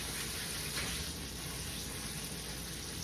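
A steak sears in a pan with rosemary and garlic, giving a steady, dense sizzle that runs evenly and fairly loud throughout, with no talk over it.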